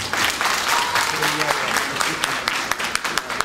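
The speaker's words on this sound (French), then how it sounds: "je voudrais ici que l'on applaudisse des jeunes combattants de Bampeto, Koza, Amdallah, Nyariwada" A crowd applauds young fighters at a community gathering in Philadelphia, with dense, steady clapping that fills the room at close range and a few louder individual claps standing out.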